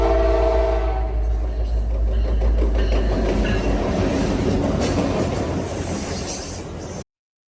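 Railroad cars roll past in a loud, continuous clatter with rhythmic clickety-clack and a faint squeal of wheels, ending abruptly.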